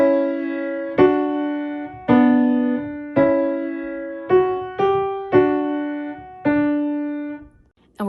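Piano playing two measures of Beethoven's Ode to Joy slowly for a beginner lesson, with about nine evenly spaced notes struck roughly once a second and each left ringing, close and clean with no voices.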